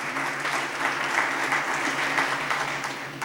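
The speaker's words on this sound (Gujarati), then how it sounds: "એમને પણ જોરદાર તાળીઓથી વધાવીએ." Audience at a Thursday thought gathering in Surat applauds warmly, a sustained wash of many hands clapping at an even level throughout.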